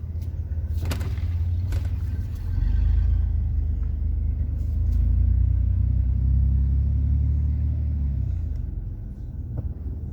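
A truck engine rumbling at a harborside village in Destin, Florida, a deep low drone swelling as it passes close by mid-clip, then fading, with a few faint knocks.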